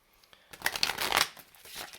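A deck of tarot cards being shuffled, with one close, brisk riffle of crisp flapping that swells and fades within about a second, alone and without speech.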